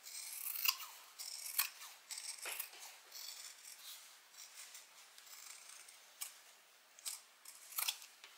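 Scissors trim back fabric lining on a bag, a series of faint, close snips and crisp blade rasps recurring irregularly with short gaps and no talking.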